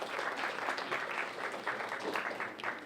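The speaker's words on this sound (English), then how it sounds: "Give the moms and dads a round of applause." A community service gathering applauds, the audience clapping in a steady, fairly faint patter for a few seconds with no voices over it.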